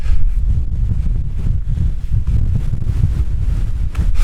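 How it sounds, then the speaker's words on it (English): Strong 45 mph wind on a mountain hike, roaring and buffeting loudly across the microphone in a continuous rumbling gust. "It's about a 45-mile-an-hour wind, that's the forecast, and it certainly feels it."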